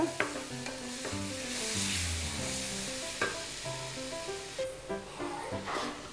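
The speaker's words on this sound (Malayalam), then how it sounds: "ഈ മസാലേൻ്റെ പച്ച സ്മെല്ലൊന്ന് പോകുന്നവരെ ഒന്ന് വാറ്റിയെടുക്കാം" Chicken masala paste of ginger and garlic, meant for stuffing a whole chicken, fries and is stirred in a pan with a soft steady sizzle and occasional scrapes, while melodic background music plays over it.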